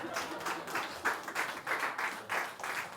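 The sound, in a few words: audience applause in church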